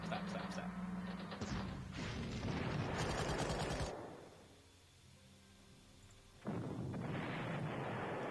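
Artillery fire in the Panzer Corps war game: a dense run of loud booming blasts lasts several seconds, then a quieter lull, then another heavy burst of explosions.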